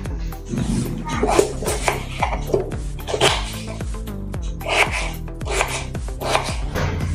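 A knife chops peeled ridge gourd and potatoes for a home-style sabzi, with quick, repeated cuts in an uneven rhythm. The chopping sits close and clear over a steady tonal background.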